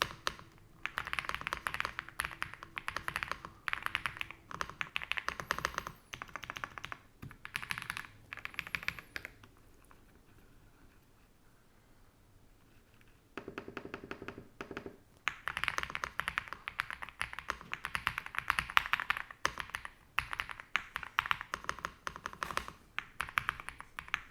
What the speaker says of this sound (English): let's take a listen to how these keyboard switches sound with this entire setup